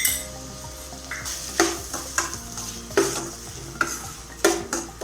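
Potato masala with turmeric frying in a pan: a steady sizzle runs throughout while a spoon scrapes and stirs, giving repeated loud clinks and scrapes against the metal about every second.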